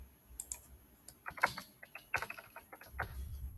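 Keys on a computer keyboard are tapped in short, irregular bursts of crisp clicks, close and fairly quiet, with no talking over them.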